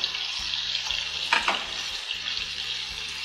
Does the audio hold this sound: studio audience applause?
no